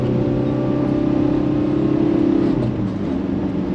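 A Ford Transit van's engine drones loud and close while lapping the Nürburgring, holding a steady strained pitch under load before easing off near the end.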